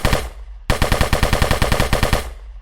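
Rapid automatic gunfire from a third-person shooter game built in Unreal Engine 4: a single shot, a short pause, then a steady burst of about twenty evenly spaced, loud, punchy shots with no talking.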